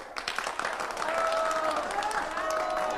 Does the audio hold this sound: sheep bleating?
no